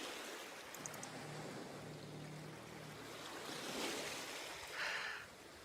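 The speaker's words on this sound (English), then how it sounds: "I'm thinking about changing this sound too, because the water's too loud." Waves wash continuously in a point-and-click adventure video game, forming a steady surf-like hiss at moderate loudness, with a couple of brighter swells toward the end and no talking over it.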